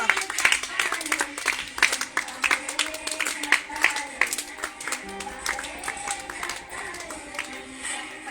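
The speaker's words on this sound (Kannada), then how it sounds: "ಚಪ್ಪಾಳೆ ತಟ್ಟುವ ಮೂಲಕ ಅವರಿಗೆ ನಾವು ಅಭಿನಂದಿಸ್ತಕ್ಕಂಥ ಕೆಲಸ ಮಾಡೋಣ" Audience applause greeting a guest, presumably the Indian kabaddi captain, at an interview event: dense, sustained clapping from many hands, fairly close and steady across the whole stretch with sharp individual claps standing out.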